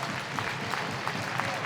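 An ice hockey crowd at a pre-season game between Sheffield Steelers and Leksands IF applauds a penalty kill, a steady wash of distant clapping spread through the arena, with a commentator's voice faintly over it.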